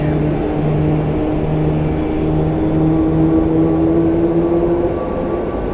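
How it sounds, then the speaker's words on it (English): A Southwest Airlines Boeing 737 MAX 8 at Phoenix Sky Harbor airport sends a steady, fairly distant engine drone across the whole stretch, with a faint rising tonal whine layered over a continuous low rumble and no talk. "The flight you're currently looking at is Southwest 3379 going to Honolulu, Hawaii on a Boeing 737 MAX 8"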